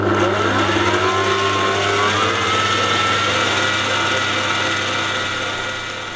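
A stand mixer whirring through gluten-free shortbread dough, a loud steady motor whine with a rising, shifting pitch that eases off slightly toward the end, no voices.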